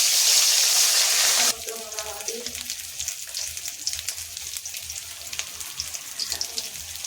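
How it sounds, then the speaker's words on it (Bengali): Rohu fish hitting hot oil in a pan gives a bright burst of hiss, then settles into a steady close crackling sizzle with small pops and light stirring throughout. "মাছটা যাতে লেগে না যায় তেলটা সব জায়গায় মাখিয়ে নিলাম। এবার মাছ দিয়ে দিচ্ছি।"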